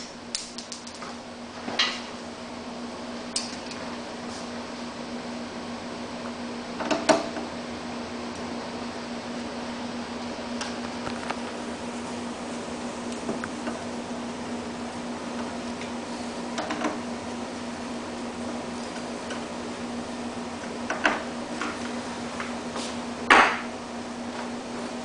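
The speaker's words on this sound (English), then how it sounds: "go ahead and bolt the fuel tank cover" Phillips screws are driven in to fasten the fuel tank cover of a Yamaha EF6300iS generator, giving scattered close clicks and taps over a steady low hum.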